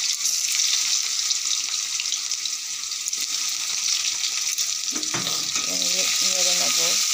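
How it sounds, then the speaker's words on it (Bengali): Chopped onions frying in hot oil with cumin and bay leaf for aloo dum with peas, a loud continuous sizzle that surges when the onions hit the pan, with stirring and brief talk near the end. "এই যে পেঁয়াজ কুচিয়ে নিয়েছি, তেলে দিয়ে দিলাম পেঁয়াজ কুচিগুলো।"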